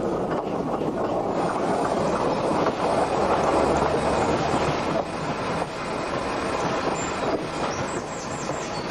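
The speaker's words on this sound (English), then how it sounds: "the brakes are applied for the last time as the train pulls up at the picturesque terminus" A train on a rural branch line braking and drawing up at a hilltop terminus 700 feet above sea level, a continuous loud rumble of wheels and carriages with faint squeals, slowing steadily to a halt.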